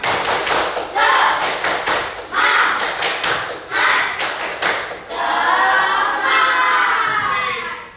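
Students in a class do a rhythmic 'tepuk semangat' cheer, loud patterned clapping and thumping in repeated clusters, then ending in a long, voiced group shout.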